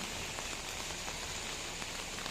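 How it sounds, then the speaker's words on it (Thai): Rain pours steadily at a roadside street food stall, a dense even hiss of drops splashing on surfaces, constant and close with no talking. "ฝนมันสาดนะพี่น้อง"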